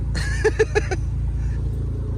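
A Subaru Justy with no working brakes driving in second gear, its low engine rumble steady and close throughout, with a few brief sharper bursts early on that could be a voice or clatter.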